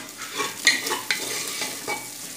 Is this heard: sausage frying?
yes